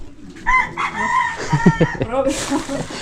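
Chickens on a rural Filipino homestead, where a pig is also kept, cluck and crow nearby in loud, drawn-out, wavering calls, with a sharper cry at the end.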